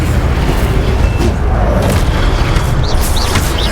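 An Incendio fire spell in the Hogwarts Legacy game bursts out as a dense, loud, roaring blast. Its rumble stays steady and close for several seconds, with faint chirping effects near the end.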